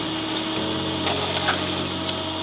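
Drill working at a hidden rivet in the chassis leg of a crashed BMW X5 M50, steady whining tool noise with a few sharp metallic clicks, close and continuous.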